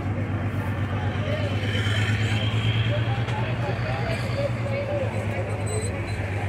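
Trucks rumble and idle in a steady, dense drone around a busy Ceasa wholesale produce market in Brazil, with constant engine noise and people's voices mixed in.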